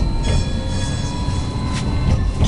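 An Elektron tram rides loudly on rails through Lviv, a continuous rumble and clatter of wheels with high tonal whines and squeals throughout, heard from inside.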